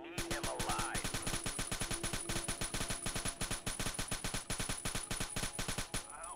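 Dense automatic gunfire from the Rainbow Six Shadow Vanguard video game, with rapid, evenly spaced shots pounding on continuously for about six seconds, loud and close, with no talk.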